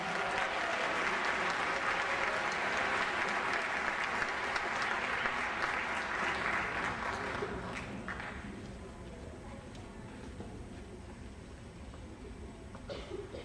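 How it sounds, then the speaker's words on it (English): Audience applause at a Martin Luther King Jr. Day event, a dense sustained round of clapping that holds steady for several seconds, then thins and fades to scattered claps near the end. "Let's give her one more round of applause."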